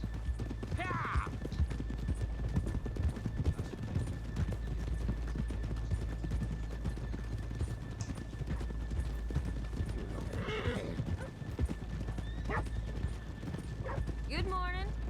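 Horses in a video game clip-clop steadily on hard ground throughout, with a few neighs and whinnies near the start and toward the end, and talk in the background.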